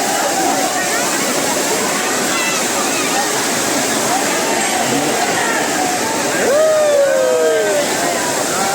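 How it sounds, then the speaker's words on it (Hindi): Continuous rushing roar of the Jatmai Ghatarani waterfall fills the scene, with birds chirping and whistling faintly over the steady wash. "झरना देखो झरना, क्या ही खाटी झरना।"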